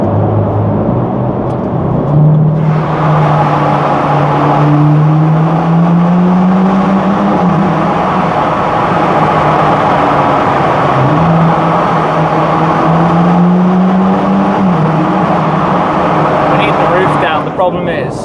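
Ferrari GT car with a supercar powertrain running through a tunnel on a rain-soaked road, its engine droning steadily with rising and falling revs under loud tyre hiss and wet road noise throughout, with a voice talking over it.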